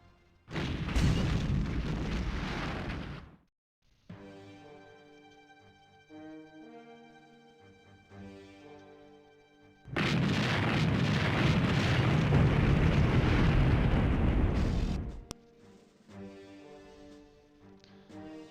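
Soviet artillery in a WWII strategy game set during the opening of Operation Barbarossa, heard as two long, loud, rumbling bursts of several seconds each, with quieter stretches of music in between.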